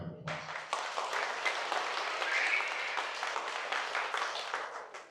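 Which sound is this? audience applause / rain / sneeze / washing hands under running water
audience applause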